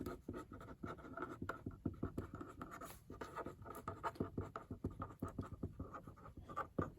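Pen or pencil scratches across paper in quick irregular strokes while handwritten precalculus notes are written, close and fairly quiet, with no one talking.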